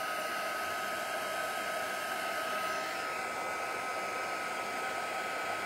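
Steady, continuous whooshing roar of a heat tool drying a junk journal craft piece, loud and close, unchanging from start to finish with no voices.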